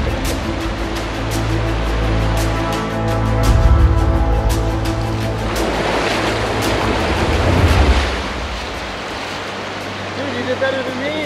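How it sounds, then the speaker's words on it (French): The Sacco river rushing around someone standing in the water, a loud, close, continuous broadband wash that swells twice, with no voices over it. "En ce moment, je suis dans la rivière Sacco."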